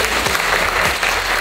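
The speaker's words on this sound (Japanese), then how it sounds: "今一度ちょっとお二人に拍手を送りたいと思います" Wedding reception guests applaud the couple, a short burst of dense, steady clapping filling the room.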